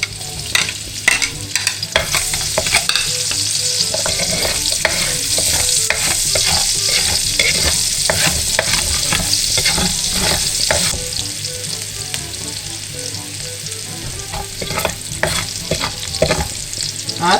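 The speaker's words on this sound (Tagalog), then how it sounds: "Bali, gigisa lang po muna natin yung kamatis. Lalagay na po muna natin yung bawang." Tomato and garlic being sautéed in a frying pan, with a steady loud sizzle broken by frequent scraping stirs, close up and continuous, with no talking.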